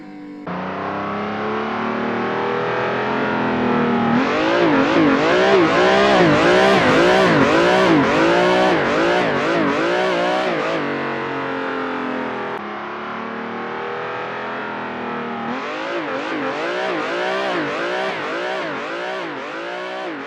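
A car drifts in second gear at about 60 km/h. Loud, rasping engine revs climb and fall in repeated throttle blips, wavering up and down in surges and easing between bursts.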